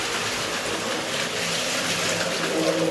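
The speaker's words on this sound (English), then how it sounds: "Gotta fill it up with the water." Water rushes steadily into a robot pool cleaner as it is filled, giving a continuous, loud, even gushing hiss with no breaks.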